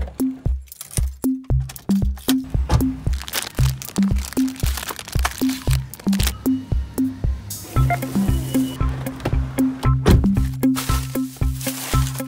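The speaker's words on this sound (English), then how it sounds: "when you actually crack it in half, the Nutella oozes" A large homemade chocolate heart filled with Nutella being cracked apart, giving a long run of sharp snapping and crunching cracks in a steady rhythm, close and loud, growing denser toward the end with no talk.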